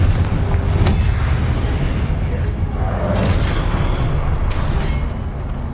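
A Confringo spell blast in Hogwarts Legacy, booming explosions with a loud burst near the start and more rumbling impacts over a dense, continuous game soundscape, under a shouted voice.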